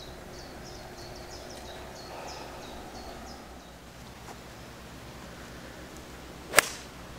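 A golf club strikes a ball on a course: one sharp, crisp crack near the end of a quiet outdoor stretch, with faint birdsong chirping earlier and low ambient background.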